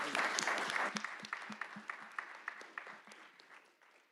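A ballroom audience at a hackathon applauds, many hands clapping in a loud, rapid patter that thins and fades over a few seconds, with no talk on top.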